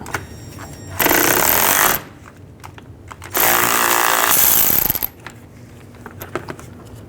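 A power tool with a 15mm socket removes bolts while replacing the front lower control arm on a 2010-16 Buick LaCrosse. It fires in two loud, harsh bursts about a second long each, separated by quiet pauses, close up with no talking.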